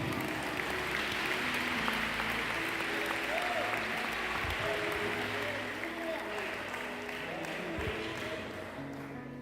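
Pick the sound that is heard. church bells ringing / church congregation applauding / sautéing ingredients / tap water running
church congregation applauding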